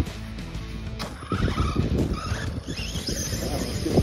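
A 3D-printed RC car driven at full throttle across grass, its small motor whining and tires churning in bursts that rise and fall over a few seconds, fairly close with no speech.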